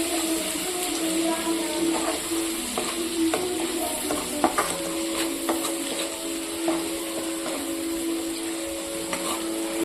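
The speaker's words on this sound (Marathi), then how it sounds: "हे सर्व मसाल्यांना 2 मिनिटं आपण हलवून घ्यायचं तेलामध्ये।" Spices sizzle steadily in hot oil for a cabbage curry while being stirred, with scattered scraping and tapping of the spoon against the pan over a constant frying hiss, and no talking.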